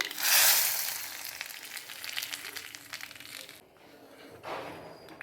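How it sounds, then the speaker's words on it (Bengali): Hot spice tempering with black mustard seeds poured into a pot of sour mango dal, a loud burst of sizzling that continues as a steady crackle, dips, then briefly flares again, close up and without speech. "এবার আমি ডালের মধ্যে ফোড়নটা দিয়ে দিচ্ছি"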